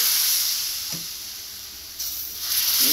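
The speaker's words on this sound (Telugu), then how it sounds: "ఇప్పుడు నేను దోశ వేస్తానండి దీని మీద." Rava dosa batter sizzles on a new iron pan in a tiffin center, a steady bright hiss with brief soft crackles and a slight surge as more batter hits the hot surface.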